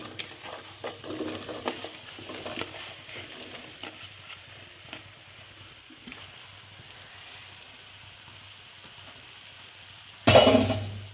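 Fresh mushrooms fry and get stirred in a pan for a pepper fry, with a soft steady sizzle broken by scraping stir strokes, ending in a sudden louder burst of sizzling near the close.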